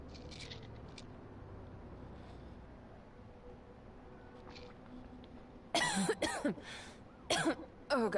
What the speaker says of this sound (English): You should see a doctor with that kind of cough.